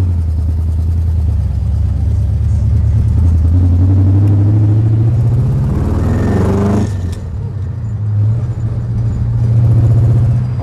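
A 1967 Ford Mustang with a four-speed manual gearbox, unassisted steering and brakes, pulls away in first gear, its engine rumbling loud and close with rising revs and a gear change, no voices over it.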